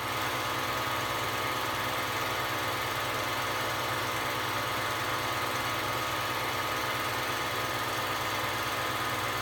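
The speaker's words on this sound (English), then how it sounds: "great boats with those Mercury or Evinrude outboards on them" A Mercury or Evinrude boat outboard motor runs at a steady idle, a continuous rumbling drone with a rhythmic low throb and no other sounds.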